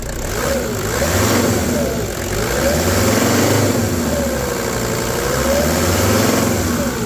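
A 2004 SsangYong Musso Sports engine with about 120,000 km and a clogged intake hose runs steadily at a low, rumbling idle, with the revs rising and falling slightly throughout, close and continuous.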